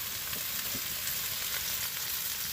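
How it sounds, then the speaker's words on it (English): Maple flavored sausage sizzles in a pan on a woodstove inside a hot tent on a snowy morning, a steady close crackling fry with no voices. "the one thing I don't like about this maple flavored sausage is it kind of burns the bottom of the pan a little bit"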